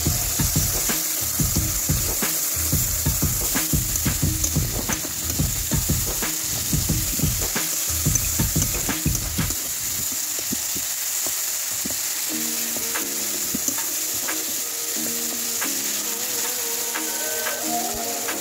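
Garlic paste fries in a pan with loud, close sizzling and repeated scraping stirs for the first half, then the spattering settles to a calmer, steady crackle.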